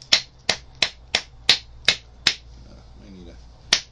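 Flint knapping strikes trim a flake from a stone point, heard as about seven sharp, evenly spaced close clicks, a pause, then one final crisp strike.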